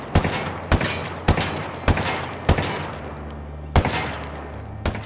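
An AK-47 fires in Ghost Recon Wildlands, about eight single sharp, loud shots spaced roughly half a second apart, each followed by a brief ringing tail, with no talking.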